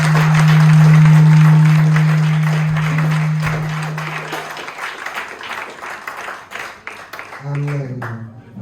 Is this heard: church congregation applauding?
yes